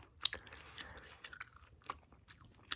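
Bubble Yum gum chewed with the mouth open, producing quiet, close, sticky smacks and sharp clicks in an irregular rhythm with no talking.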